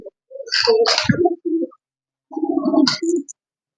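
Breeding pigeons coo at a racing pigeon club in Gopalganj, Bangladesh, in two close, loud bursts of throaty cooing and bubbling calls separated by a short pause.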